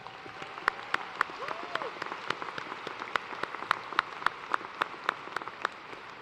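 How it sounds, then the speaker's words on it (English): An audience at a university graduate commencement ceremony applauds the staff, a dense sustained patter of many hands clapping in a large hall, steady and fairly even for several seconds with no voices over it. "Let us give them a round of applause."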